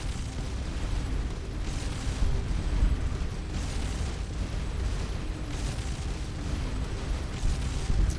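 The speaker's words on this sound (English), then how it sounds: "Let's see if we can fight you, missile launcher." Missile-launcher ship battle in the space game Starcom Nexus, with a dense, steady rumble of repeated booming explosions and bursts that roll on through the whole stretch without pause.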